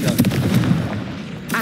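The Confringo fire spell in Hogwarts Legacy bursts into a short explosive boom with a crackling tail, followed by a second softer hit near the end.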